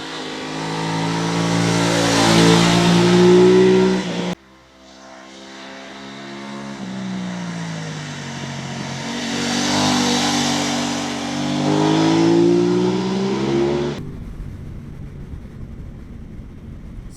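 Aprilia RS 660 sport motorcycle out on the road, its engine revving up and down in loud sweeping passes, easing off briefly partway and dropping to a quieter steady rumble near the end.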